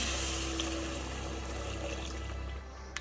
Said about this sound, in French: Je couvre les lentilles d'eau salée,